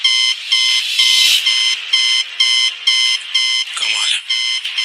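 A fingerprint machine beeps loudly and repeatedly, sounding a steady train of sharp, bright electronic tones at an even pulse, with a brief irregular disturbance midway and near the end.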